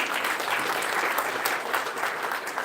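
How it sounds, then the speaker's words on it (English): Steady, dense applause from students at an international conference, continuous clapping heard close with no pauses. "Students, please be generous with your applause."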